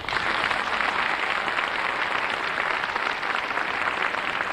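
Sustained, dense applause from an audience at a formal inauguration ceremony, a steady loud wash of clapping that holds evenly throughout with no talk over it.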